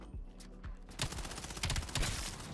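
Rapid gunfire in a video game shooter, a few sparse shots and then dense bursts of automatic fire that keep going to the end, close and loud.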